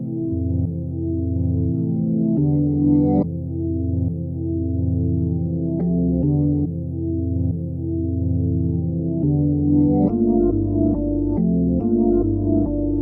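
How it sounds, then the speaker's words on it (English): Dark, pitched-down reversed sample, chopped and resequenced into a looping pattern, playing continuously and fairly loud with abrupt cuts between slices, no voices. "So I ended up pitching it down 6 semitones and reversing it."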